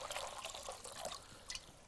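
Ice water trickles and pours steadily into a container in a kitchen while preparing peach compote, a continuous close liquid dribble with no talking.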